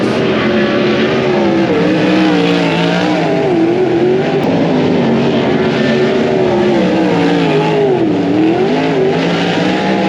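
Winged 410 sprint cars roar around a dirt track, engines droning loudly and continuously with rising and falling pitch as they pass.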